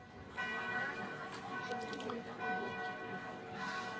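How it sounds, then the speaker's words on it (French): Church bells of Saint-Pierre church in Chalon-sur-Saône ring steadily with overlapping tones, closing three minutes of silence, somewhat distant, while people talk over them throughout. "les cloches de l'église Saint-Pierre viennent juste de clore ces 3 minutes de silence"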